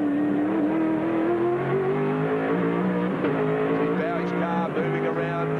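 A Holden V8 touring car racing at Calder Park in 1995, heard from onboard: a loud, steady engine roar that rises and falls through gear changes, with a commentator talking over it.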